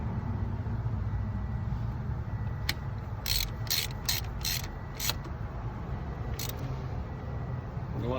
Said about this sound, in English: So I'll go back and tighten these screws now here.